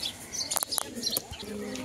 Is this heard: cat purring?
no